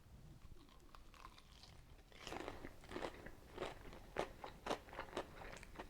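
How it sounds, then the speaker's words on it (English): Crisp, loud crunches from biting into crispy fried chicken, several bites in a quick uneven rhythm, close up, after a quieter start. "Listen to this crunch"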